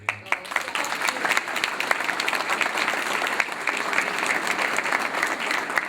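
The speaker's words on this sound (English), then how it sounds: "if I could get a big round of applause for Daryl and Lisa" A large audience at a community gathering gives sustained, loud applause. Dense clapping holds steady throughout, with a few sharper individual claps standing out.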